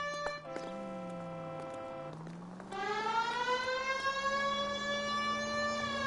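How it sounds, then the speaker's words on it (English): A police siren in the video game L.A. Noire wails with steady tones, then shifts into a louder rising and falling pattern, clear and continuous. "Don't you hear the sirens?"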